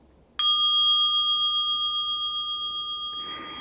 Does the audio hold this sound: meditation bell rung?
yes